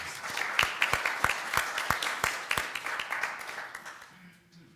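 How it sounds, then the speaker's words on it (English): Parishioners at a church annual meeting give a round of applause, scattered individual claps building into a steady patter that thins and fades toward the end, with a voice faintly heard beneath. "Can we give Charlie and Wendy another round of applause, please?"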